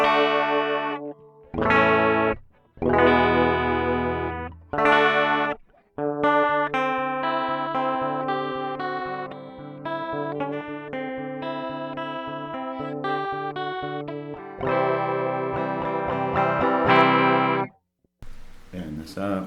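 Electric guitar played through a Boss CE-5 Chorus Ensemble pedal set to full rate and half depth, strumming chords in the key of D as a clear, shimmering, swirling tone with a short pause between phrases.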